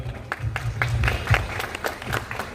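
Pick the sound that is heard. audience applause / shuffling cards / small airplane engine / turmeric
audience applause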